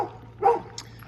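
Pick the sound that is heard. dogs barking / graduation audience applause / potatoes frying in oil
dogs barking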